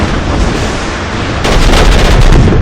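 Large robot guns fire in a video game, a loud, dense barrage of continuous shots and booms that grows heavier partway through.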